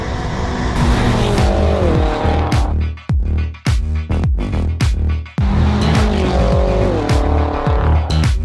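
A rebuilt, previously crashed BMW M5 pulls away hard on its first drive, engine roaring loud and close while tires squeal in repeated bursts through gear changes, with short lifts between pulls.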